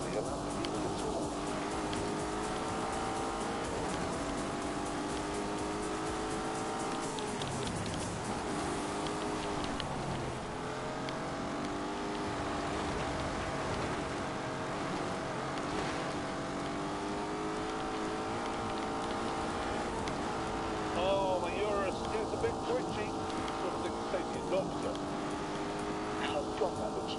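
A Lamborghini in The Grand Tour video game drives along with a steady, sustained engine drone that shifts pitch as it speeds up and slows, heard under continuous talk.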